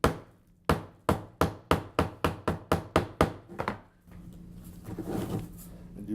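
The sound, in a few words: hammer tapping a glued-in piece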